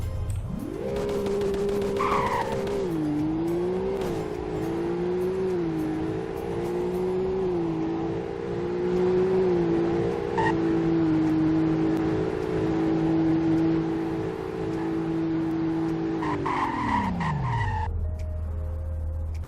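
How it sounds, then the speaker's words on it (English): Roblox Greenville car accelerating hard from a standstill, engine tone climbing through gear changes to a high steady whine, then braking sharply with a tire skid before settling to a low idle. "here's a 0 to 100 in braking test"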